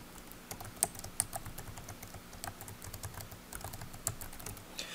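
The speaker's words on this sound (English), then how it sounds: "And then you just type." Quiet, close typing on a computer keyboard, with irregular bursts of light key clicks and a few sharper taps over faint room hum.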